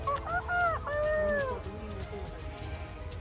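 Birds calling outdoors in a jungle, a few loud squawking, cat-like cries in the first seconds over a constant background of insects and distant bird chatter.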